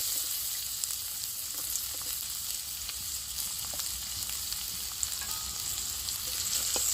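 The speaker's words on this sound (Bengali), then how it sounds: "পেঁয়াজটাও একটু ভালো করে ভেজে নেব।" Chopped onion frying in hot oil with minced garlic and black cumin seeds, a steady close sizzle and crackle running throughout with faint occasional stirring taps and no talking.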